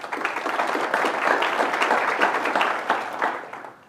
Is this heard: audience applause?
yes